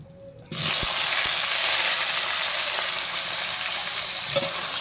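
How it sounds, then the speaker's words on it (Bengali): Unpeeled potatoes frying in a pan: a sudden loud burst of sizzling as they hit hot oil, then a steady dense hiss with a few faint clicks of a spatula, no talking. "আলুটা আমি ভাজতে থাকব।"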